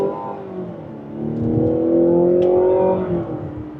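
A 2026 Mazda CX-90 PHEV Platinum Plus accelerates in sport mode in second gear, its engine note rising steadily and droning loudly from inside the cabin over about four seconds, with no talk.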